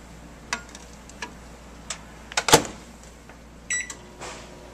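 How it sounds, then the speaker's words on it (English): A microwave oven heating a cornstarch plastic mixture gives off a low steady hum, broken by scattered clicks and ticks, a sharper crackle midway and a brief electronic beep near the end. "Take it to the microwave and see what happens."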